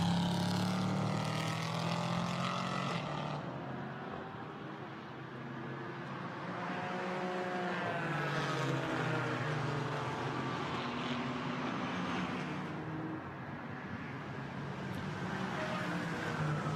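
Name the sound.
Porsche GT4 race car driving on wet Spa circuit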